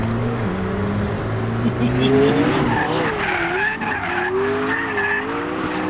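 McLaren P1 supercar sliding sideways as its rear tires lose grip, a loud sustained tire squeal with wavering pitch over a roaring engine, heard close.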